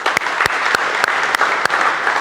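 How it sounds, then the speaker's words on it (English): An audience applauds the girl players at a basketball coaching session on man-to-man defence, giving steady, fairly loud clapping with a few sharper individual claps standing out throughout. "can you give these girls a round of applause?"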